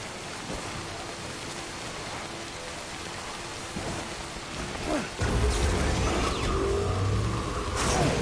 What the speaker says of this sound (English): Man, the rain is really coming down out here.